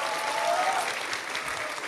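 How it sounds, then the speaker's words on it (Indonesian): Audience at a university student discussion in Bandung applauding students who asked questions, a dense, steady round of clapping from a large crowd filling the room. "Kasih tepuk tangan dong pada yang tanya-tanya nih."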